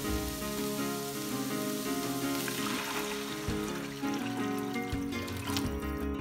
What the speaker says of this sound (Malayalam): ഇനി നമുക്ക് ഇതിലേക്ക് വെള്ളം ഒഴിച്ചു കൊടുക്കാം.